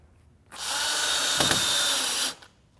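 A power drill drives fasteners through a window flange into open stud framing, one steady close whirring burst of nearly two seconds that starts and stops abruptly against a quiet background, with no speech.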